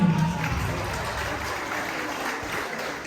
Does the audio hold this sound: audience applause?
yes